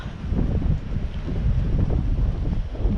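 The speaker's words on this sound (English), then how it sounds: "And with the wind, it's a challenge" Wind blows across a garden with tomato beds, buffeting the microphone with a steady low rumble and gusty roar for a few seconds.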